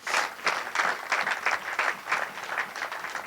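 A church congregation claps for the worship group after a song, fairly quiet and somewhat distant, with the clapping pulsing in an uneven rhythm over a few seconds.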